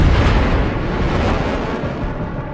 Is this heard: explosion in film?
yes